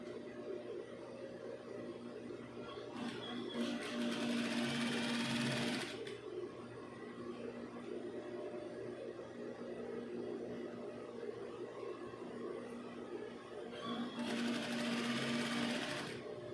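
Sewing machine stitching a gown skirt onto its tube bodice, a steady background motor hum with two loud bursts of rapid needle chatter, each lasting a few seconds.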